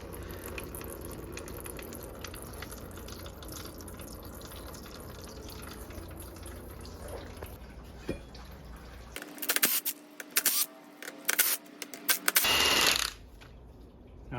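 Transmission fluid from a GTO's T56 six-speed gearbox drains in a steady trickle, joined near the end by brief clanks and a short loud rushing burst.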